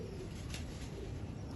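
Pigeons kept on a rooftop coop coo softly over a steady low rumble of background noise, faint and continuous rather than distinct calls.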